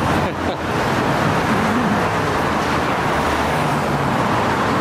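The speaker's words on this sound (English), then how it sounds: "Too much traffic." Street traffic outside a restaurant, a loud, constant roar of passing vehicles that stays dense and unbroken throughout, close by.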